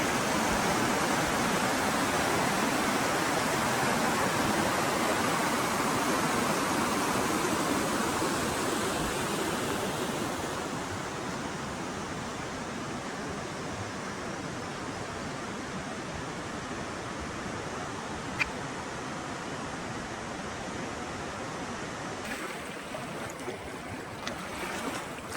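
Stocked catch-and-release trout stream in New River Gorge, West Virginia, a continuous broadband rush of flowing water that is loud and close at first, then settles slightly quieter and steady.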